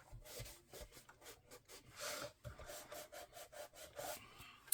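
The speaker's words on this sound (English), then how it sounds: "Give it a good burnish." Paper on a scrapbook album spine is burnished with a tool in a run of quick, soft, rhythmic rubbing strokes, close and faint, with no talking.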